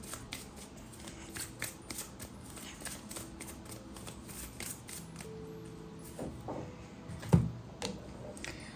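Tarot cards are shuffled and drawn in a quiet room, a soft, close series of rapid riffling flicks and snaps that ends with a single sharper slap as a card is set down.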